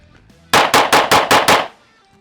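Six sharp pistol shots from a DC Precision DC9R ring out in rapid succession at close range, loud and evenly spaced over about a second, with a faint metallic clang and quiet surroundings before and after.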